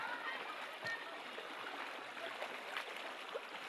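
Steady broadband rush of a large river flowing, continuous and fairly close, with small splashes and a faint voice now and then.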